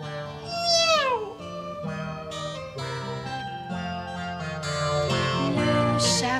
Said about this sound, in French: Le chat voudrait un oiseau pour son déjeuner